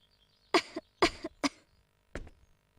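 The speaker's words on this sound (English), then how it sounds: "She sure was coughing a lot." Four separate coughs from a woman in the video game Star Ocean: Till the End of Time, fairly close and sharp, come in a quick uneven sequence with brief quiet gaps between them.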